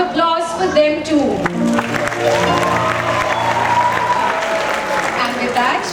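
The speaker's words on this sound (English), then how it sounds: "A round of applause for them too" An audience at a school function applauds steadily for the light and sound crew, with music and voices mixed into the clapping throughout.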